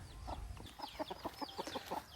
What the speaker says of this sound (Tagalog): ayan yung nag-iisa naming Rhode Island Red